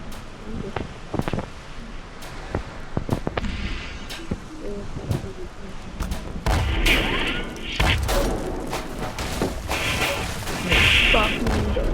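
Gunfire in the Roblox game Rusty Rafts comes as bursts of sharp shots and impacts with whooshes, loud and near, mixed with game effects while players talk over it.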